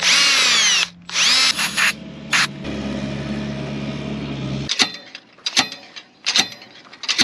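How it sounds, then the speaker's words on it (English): A power drill whines in a couple of short bursts, then runs longer and steadier while drilling out a track pin on a Caterpillar D4 dozer outdoors, followed by metallic clinks and taps. "So I'm just going to drill this out."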